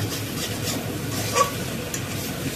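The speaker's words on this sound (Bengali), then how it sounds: "এবার একে একে কাঁকড়াগুলো সব দিয়ে দিলাম।" Crabs go one by one into spicy masala frying in a pan, giving a steady close sizzle and stirring scrape throughout with a faint clink partway through.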